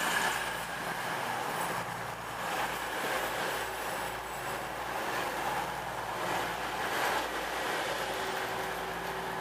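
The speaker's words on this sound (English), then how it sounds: "train arriving" A train pulling into a station, heard as a steady, moderately loud broadband rumble with wheel and rail noise that holds level throughout, with no voices.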